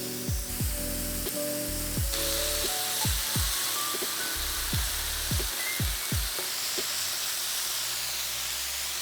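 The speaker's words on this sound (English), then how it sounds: "cook this steak in Montreal steak spice and then set it aside" A steak coated in Montreal steak spice sizzles in a pan with a constant bright hiss, while repeated low knocks and scrapes of the pan or utensil punctuate the frying.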